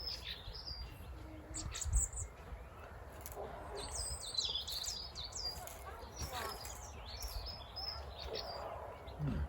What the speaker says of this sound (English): Hello, Mr. Blackbird.